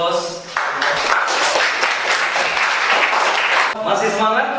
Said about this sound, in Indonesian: Baik, kita berikan aplaus.